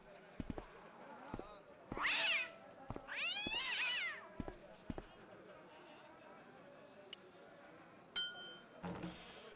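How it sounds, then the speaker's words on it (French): A cat in the point-and-click adventure game Broken Sword gives two drawn-out, rising-and-falling meows in quick succession, loud and close, between sharp clicks and knocks of game sound effects. "Le chat était une horrible bête qui semblait être maître des lieux."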